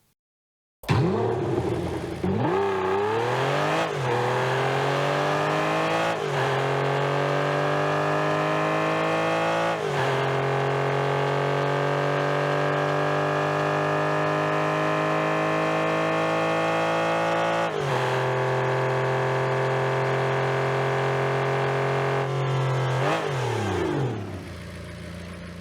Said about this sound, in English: Here's a full demo of the engine audio.